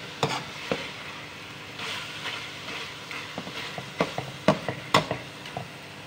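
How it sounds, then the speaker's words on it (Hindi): Shaljam (turnip) greens being stirred and mashed together with spinach in a pan, irregular scraping and clacking strokes over a faint sizzle, near and fairly loud. "मैंने अच्छी तरह से इसको पालक के साथ मिक्स कर दिया, घोट दिया है।"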